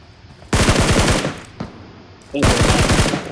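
Bursts of automatic gunfire from a video game weapon, two loud rapid-fire volleys separated by a short pause.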